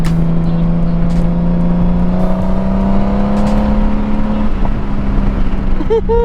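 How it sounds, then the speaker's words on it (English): Car exhaust rumbling steadily from inside the cabin during a drive, a loud continuous low drone with a slowly rising engine tone and road noise throughout. "Y'all hear that back? Them exhausts. Boy, this boy sound good."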